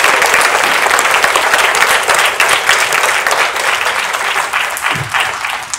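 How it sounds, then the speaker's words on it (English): A room of people applauding doctors at an AID Seattle event, the clapping loud, dense and continuous throughout without a break. "I would like to give a round of applause to that all the doctors in the room who have served"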